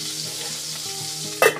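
Tomato and jalapeno fry in a small lidded pan during hotel-room cooking, giving a steady close sizzle that swells into a brief louder, crackling burst near the end.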